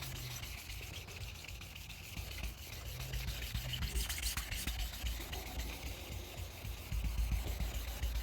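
Fine abrasive sanding rubs across car paintwork to remove etching left by bird droppings, a soft, continuous, even scratching hiss up close and fairly quiet, with no talk over it.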